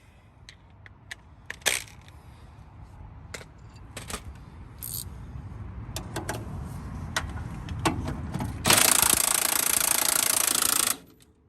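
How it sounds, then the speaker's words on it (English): An impact wrench works on the axle of a Honda Civic, giving short rattling bursts between clicks and then a long, loud sustained rattle near the end. "I'm going to use my impact because it makes things easier"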